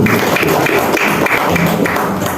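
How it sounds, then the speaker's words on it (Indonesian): Audience applause for the residents of the R01 neighbourhood at a community gathering in the Marunda low-cost flats, North Jakarta: a dense, steady wash of many hands clapping, close and loud, sustained throughout with no break. "Tepuk tangan buat warga R01."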